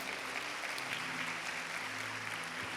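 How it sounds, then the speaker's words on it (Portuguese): A faint, steady wash of applause from a church congregation, heard at a distance as an even crackle of many hands with a low hum underneath, lasting a few seconds without a clear end. "Pode dar uma salva de palmas forte."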